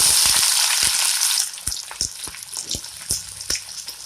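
Loud sizzle as shallots hit hot oil, then crackling and frying settles down while a utensil clinks and stirs in the pan.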